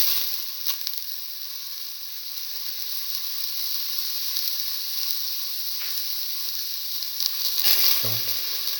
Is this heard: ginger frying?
yes